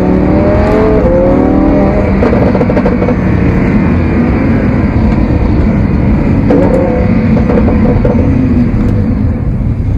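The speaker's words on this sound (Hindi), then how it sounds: "अभी गाड़ी का साउंड सुनाता हूँ, सिग्नल हरे हो जाए तो" A car's engine pulls away from a traffic light as the signal turns green, a loud, steady, close roar that climbs in pitch through the first seconds and stays throughout, with no talking.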